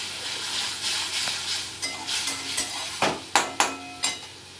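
A spice paste is stirred in a hot pan for a Bengali ehor curry, with a low sizzle under it and then a run of distinct spoon scrapes and taps against the pan growing louder toward the end.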